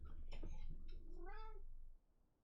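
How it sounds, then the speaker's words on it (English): A cat gives a drawn-out, rising and falling meow, faint and close, over low background hum. "Cat's very upset that it's 5-5."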